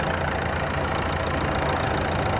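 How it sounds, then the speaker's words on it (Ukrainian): A car engine idles steadily and loudly, a dense continuous rumble with a fast, even ticking running through it. "Отакий такий звук цього двигуна, такий приємний цок-цок-цок-цок-цок-цок-цок."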